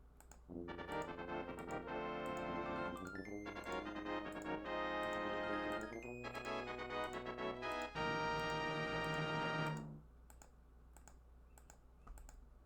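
A game-selection button is pressed rapidly and repeatedly, producing a dense run of quick clicks with short tonal bursts for about ten seconds before stopping, with no talk over it.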